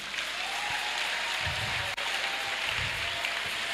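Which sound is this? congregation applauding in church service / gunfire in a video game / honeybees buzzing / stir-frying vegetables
congregation applauding in church service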